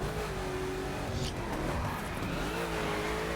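A Koenigsegg Agera R in drift spec, sliding in the racing game The Crew, with a loud, sustained engine roar and rising and falling revs under continuous tire squeal.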